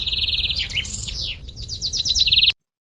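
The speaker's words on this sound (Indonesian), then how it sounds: "Seperti suara burung" Birds chirping close by, a high steady trill followed by quick runs of bright tweets, ending abruptly.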